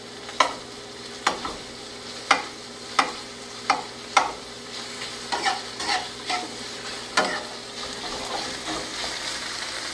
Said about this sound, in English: And we're going to allow this to saute for a little bit.